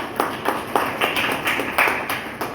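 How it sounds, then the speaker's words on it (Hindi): Applause at a product presentation: a small group claps loudly in a brisk, slightly uneven rhythm, close and clear, with individual hand strikes standing out throughout. "तो इसके एक बार जोरदार तालियां।"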